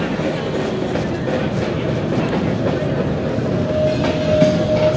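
Trains run through Berlin Alexanderplatz, a multi-level rail, metro and tram station with long-distance and regional trains on the upper level, producing a continuous rolling rumble with a faint sustained tone rising near the end.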